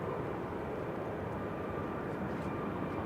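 A plane departing Manchester Airport, heard as a steady, broad rumbling roar that holds loud and even for the whole stretch, with no talk over it.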